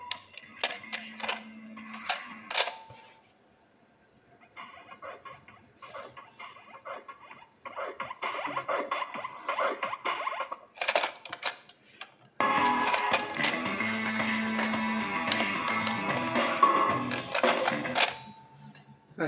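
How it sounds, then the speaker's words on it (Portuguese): Philips Famar car radio cassette deck running its tape through fast wind and reverse, with clicks and clunks from the mechanism followed by a steady, fairly loud whirring spin during the final stretch. "aqui, ele adianta a música, que retrocede, e apertando os dois juntos, ele vai tocar o outro lado da fita"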